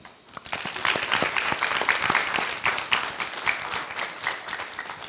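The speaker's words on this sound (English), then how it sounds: "a big round of applause for Team Indonesia" An audience at a business pitch competition gives Team Indonesia a dense round of applause, many hands clapping loudly and steadily after a brief quiet start.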